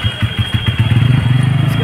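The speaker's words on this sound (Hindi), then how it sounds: "और हम आए हैं स्कूटी पे, सचिन लेके आए हैं स्कूटी" Scooter engine running close by, a steady low motor drone with a puttering rhythm that grows denser and steadier over a couple of seconds.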